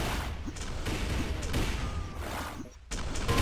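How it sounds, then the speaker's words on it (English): Rapid gunfire from a pistol and grenade fight in a competitive team video game match, with dense bursts of shots and a brief pause before more fire, heard under a caster's commentary. "going to have a pistol and nade fight"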